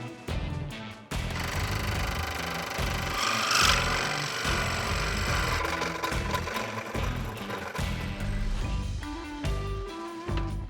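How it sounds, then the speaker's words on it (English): A scroll saw cuts a wooden shape for a small fall woodworking project, buzzing steadily and loudly up close with a fast reciprocating chatter that pauses briefly near the start and then runs on alone. "since I've already been using the scroll saw, we're going to stick with that"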